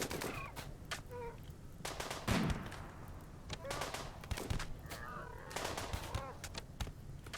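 Gunfire from colonists in a RimWorld raid, rapid, sharp cracking shots scattered throughout, fairly quiet, under faint speech.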